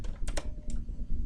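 Code is tapped out on a computer keyboard in a short, quick cluster of close, quiet keystrokes, with no talking.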